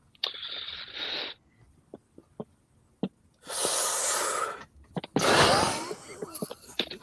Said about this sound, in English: you are a very heavy breather